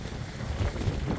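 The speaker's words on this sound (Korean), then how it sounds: "바람이 이 정도로 강합니다." Strong wind gusts over a farm greenhouse, buffeting the microphone as a low, rumbling roar that swells in short surges.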